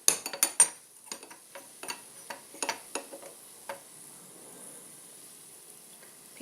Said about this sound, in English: pot is hot, my onions and my garlic. Now I'm gonna fry.